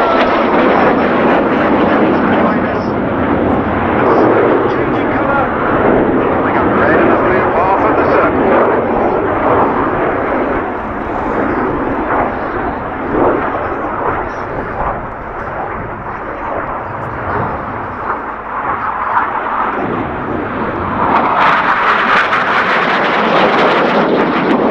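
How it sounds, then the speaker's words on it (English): Red Arrows aerobatic jets at the RAF Cosford Airshow make a sustained, loud jet roar that stays steady throughout and swells near the end as they pass, with commentary heard over it. "The aircraft coming in from our front right."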